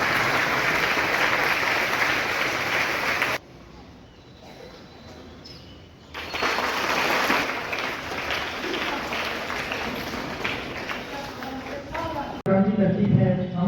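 Loud clapping from a crowd at a school Independence Day celebration, breaking off abruptly, returning strongly for several seconds, then giving way to a brief different sound at the end.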